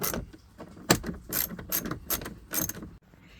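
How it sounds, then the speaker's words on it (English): A ratchet works loose screws during a speaker install in a Ford Bronco. It gives quiet, close, irregular bursts of clicking and mechanical turning, with short pauses between strokes. "Ratchet's probably the easiest way."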